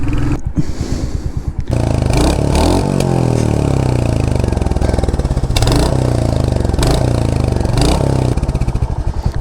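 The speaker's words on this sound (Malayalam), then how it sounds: "ഇതിൻ്റെ എക്സോസ്റ്റ് നോട്ട് തന്നെയാണ് അത് ഞാൻ നിങ്ങളെ ജസ്റ്റ് ഒന്ന് കേൾപ്പിച്ചു തരാമേ" A Royal Enfield Hunter 350 motorcycle's exhaust note blips and revs loudly up close, with sharp throttle bursts, a steady thumping idle between them and brief crackles.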